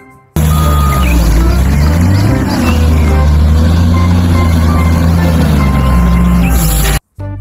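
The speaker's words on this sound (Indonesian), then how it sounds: "Ada mobil loader." A toy loader truck's engine sound rumbles steadily up close, with faint intermittent reversing beeps riding over the low drone.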